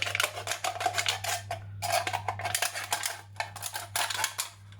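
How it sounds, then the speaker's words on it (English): Ordinary scissors snipping through a thin tin can, a run of sharp, metallic crunching cuts in quick bursts with short pauses between, close up over a low steady hum. "we're just going to get our scissors. These are just ordinary scissors."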